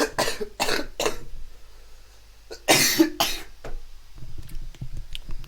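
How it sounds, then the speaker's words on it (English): A person coughs repeatedly near the microphone, three quick harsh coughs, then after a pause a louder, longer burst of two coughs, followed by quiet throat sounds. "Sorry about the coughing."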